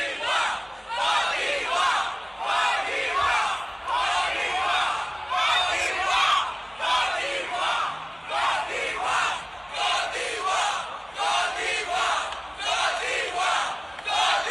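A large audience at the Miss Universe 2025 pageant roars and chants for contestant Olivia Yace, loud rhythmic crowd cheering and shouting sustained throughout with no break.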